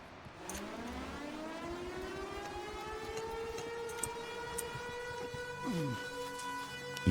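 An alarm siren in a horror video game wails steadily and fairly loud, a long rising then level droning tone that holds for several seconds with a faint, distant, eerie backdrop.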